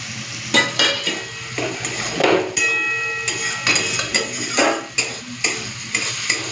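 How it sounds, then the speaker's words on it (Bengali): Spice masala for a chicken curry fries in a pan and gets stirred, making repeated scraping and clinking strokes of a utensil against the pan over a soft sizzle, close and loud, with no voices. "তো মশলাটা আর একবার নেড়ে দিই"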